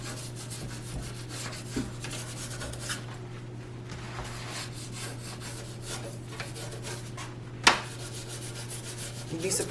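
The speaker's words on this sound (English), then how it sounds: "Now I'm going to clean around the faucet with this old toothbrush." An old toothbrush scrubs around a kitchen sink faucet, giving a soft, continuous scratchy rubbing with quick back-and-forth strokes and one sharp tap near the end, close and fairly quiet.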